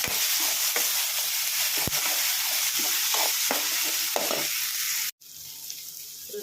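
Masala upma ingredients fry in a pan under a strong continuous sizzle, with frequent scraping stirs from a spoon; the sound cuts out abruptly for a moment near the end before the sizzle resumes more softly.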